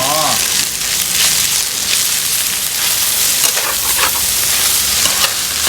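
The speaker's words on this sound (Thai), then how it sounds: "เราผัดได้สักครู่นะครับ" Spaghetti stir-frying in a pan with sweet soy sauce and oyster sauce, giving a loud, continuous sizzle with scraping stirs throughout and no talk.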